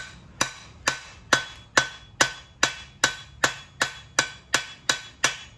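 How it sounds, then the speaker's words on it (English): Blacksmith's hammer strikes hot metal on an anvil at a coal forge with an electric blower, about twelve loud, sharp, ringing blows in a steady rhythm, close and alone without talk. "I'm going to walk the hammer here."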